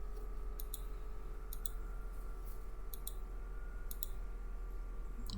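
A computer mouse gives soft double clicks, repeated about once a second, over a steady background hum with no talk.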